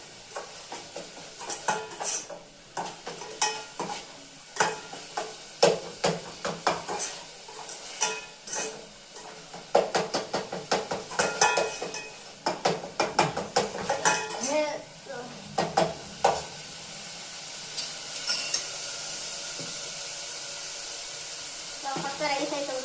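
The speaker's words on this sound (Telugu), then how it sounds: "స్పూన్ అల్లం వెల్లుల్లి పేస్ట్ వేసుకొని పచ్చి వాసన పోయిందాక వేయించుకోవాలి" Ginger garlic paste frying in a pan for egg biryani, a soft steady sizzle under frequent clinks and scrapes of a metal spoon against the pan, with the sizzle continuing alone near the end.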